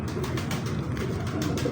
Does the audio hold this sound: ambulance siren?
no